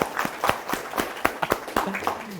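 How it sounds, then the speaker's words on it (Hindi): An audience of MBBS students in a talk session claps scattered, uneven hands for a few seconds, sharp individual claps close by, with some voices and movement underneath. "एक बार ताली हो जानी चाहिए इनके लिए"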